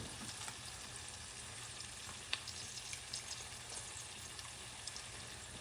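Cabbage sizzling in a sukiyaki pan, a soft, steady frying crackle heard close with scattered small pops and one sharper tick, no talk.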